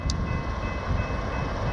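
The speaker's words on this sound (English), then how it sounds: "the Amtrak train stops right here and people got on" Amtrak Pacific Surfliner passenger train stopped near Surf Beach in Lompoc, California, giving a steady, loud broadband rumble with no talk.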